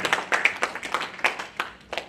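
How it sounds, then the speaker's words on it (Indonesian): Scattered clapping from a church congregation at a Sunday service, a loose rhythm of individual hand claps, fairly close and moderately loud, fading out after about two seconds. "Tepuk tangan sekali lagi bagi Yesus."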